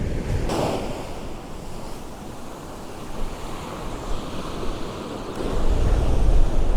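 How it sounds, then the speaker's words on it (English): Waves washing up a beach and along a breakwater, a continuous broadband wash of surf with gusty wind buffeting the microphone, building into a heavier surge near the end. "We've got waves washing up the beach and along the breakwater."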